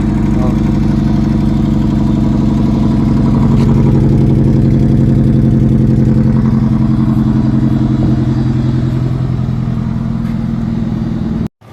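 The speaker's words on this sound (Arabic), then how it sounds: "العربيه دارت اهي" Opel Astra 2000 engine running just after starting, a loud steady low idle with rough mechanical clatter heard close for about twelve seconds.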